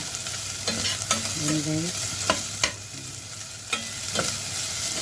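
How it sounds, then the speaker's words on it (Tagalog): Chicken sautéing in a hot pan, a close, even sizzle with scattered clinks and scrapes of a spatula; someone speaks briefly over it. "So, ito guys, binigisa ko muna guys."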